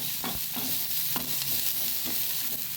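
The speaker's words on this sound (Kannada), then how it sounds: "2 ರೌಂಡ್ ಮೆಣಸು ಮತ್ತು 4-5 ಉದ್ದ ಬ್ಯಾಡ್ಗೆ ಮೆಣಸು. ಇದನ್ನು ಸ್ವಲ್ಪ ಹಾಕೊಂಡು ಉರಿಯೋಣ" Two round peppers and four or five long Byadgi chillies roasting in a pan over medium heat, a quiet steady sizzle broken by a few close stirring scrapes, no voices.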